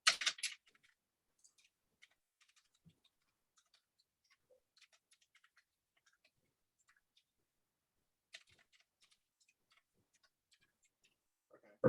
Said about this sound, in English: I'll just have to type it out.